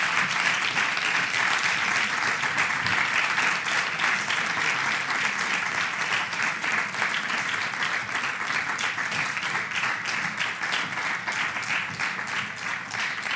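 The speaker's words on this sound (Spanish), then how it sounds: "vos pido un forte aplauso en recoñecemento a esa grande" A conference audience at a national meeting on public policy gives sustained, steady applause, dense clapping from many hands that continues at an even level throughout without a break.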